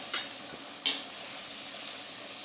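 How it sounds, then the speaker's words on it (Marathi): Fresh freshwater fish frying in hot oil for a Malvani dish, a steady soft sizzle with two brief sharper crackles or pops near the start, close and fairly quiet, with no talking. "मग मस्त ताजी गोड्या पाण्यातली मच्छी मस्त तळून काढली."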